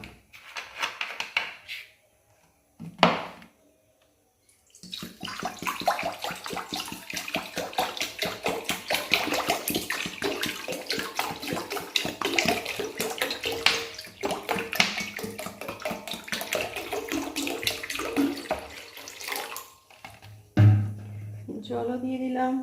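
Water poured from a container into a cooking pan (kadai) on a home stove, a steady close splashing rush lasting most of the stretch after a short pause, with brief clatter at the start and end.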